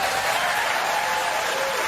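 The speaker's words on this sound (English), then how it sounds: "Even the cover gets applause." Steady, dense applause from an audience, filling the whole stretch at an even level with no break or voices over it.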